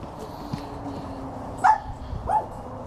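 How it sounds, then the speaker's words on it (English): A dog barks at neighbors walking past, outdoors while a 2022 Toyota Corolla hatchback is washed; two short, moderately loud barks come about a second apart over a low background hum. "That's my dog barking because there's more dogs."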